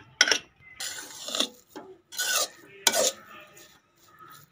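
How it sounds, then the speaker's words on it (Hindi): Spiced cauliflower filling for stuffed gobi paratha stirred in a pan, giving a series of short scraping, rubbing strokes of a spoon against metal, about six distinct bursts with brief pauses between them, close and moderately loud. "अब इसको अच्छे से मिक्स कर देना है।"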